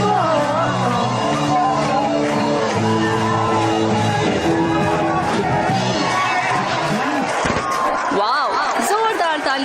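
A college crowd at Gandhi Medical College cheers, shouts and whoops after the band's performance. The noise is loud and continuous, rising over the band's fading music, with voices yelling throughout.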